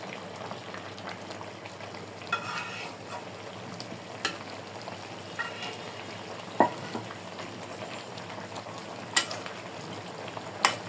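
Bele river fish added to a simmering taro-stolon curry, a soft steady bubbling and low sizzle close by, with several sharp clinks and small splashes scattered throughout.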